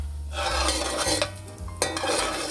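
A spoon stirring rice-thickened asopao stew around a pot, close scraping and swishing strokes against the metal with a light sizzle underneath, no talking.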